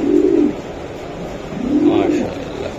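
A racing pigeon from a 2023 club batch coos in two soft, low bursts a second or so apart, close up, with faint background murmur.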